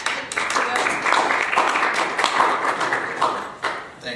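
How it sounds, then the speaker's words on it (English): Steady audience applause for a presenter about to speak on open source business models, a dense wash of many hands clapping at close range that holds for the whole stretch. "So if you give a nice round of applause to Kitware"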